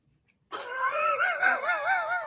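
A dog whining in a home, a sudden sustained high wavering whimper that rises and falls for nearly two seconds, close and clear, with no voices.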